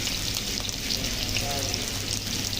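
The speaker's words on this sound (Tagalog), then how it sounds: "So yun mga kamaskara, magigisa na tayo ng bawang" Garlic sautéing in a hot pan while cooking laing, a steady broadband sizzle running throughout at close range, with low kitchen rumble underneath.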